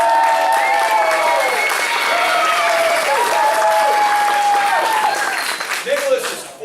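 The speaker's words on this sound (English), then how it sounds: "Let's give Nicholas a big round of applause." An audience at a family martial arts center belt ceremony gives sustained applause for a four-year-old student, a steady wash of clapping with a voice speaking over it, fading near the end.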